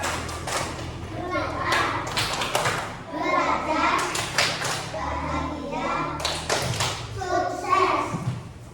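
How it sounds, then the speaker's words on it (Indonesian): Children in a classroom perform a rhythmic success clap, sharp grouped claps in a patterned beat mixed with their chanting voices. "Tepuk sukses."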